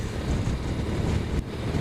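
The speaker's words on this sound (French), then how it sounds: "j'espère que le vent ne viendra pas trop contraindre parce que ça souffle un peu" Strong wind buffets the microphone outdoors in the Camargue, a steady loud roar with gusty rumble that dips briefly and then returns, with no talk.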